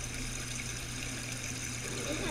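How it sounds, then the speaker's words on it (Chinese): Flowing water from a stream at Daocheng Yading makes a continuous, even rushing hiss that holds steady at low level throughout. "这一段就是流水声"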